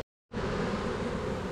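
A honeybee swarm shaken into a cloth sheet while hiving a colony taken from an attic, giving a loud, steady, dense buzz that starts abruptly after a short silence and holds close and constant.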